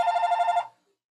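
A telephone bell rings in one sustained electronic trill, loud and close, cutting off after about two-thirds of a second in a quiet room.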